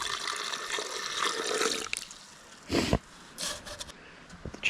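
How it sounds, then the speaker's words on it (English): Maple sap drips into a collection container, with a few short, close wet splashes separated by quiet gaps after an opening stretch of steady hiss. "These are still dripping though."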